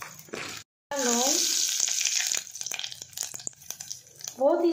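Whole garam masala spices, bay leaves and cloves frying in hot oil give a bright, steady sizzle with crackling bursts, while a voice speaks intermittently close by.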